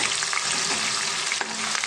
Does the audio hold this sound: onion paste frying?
yes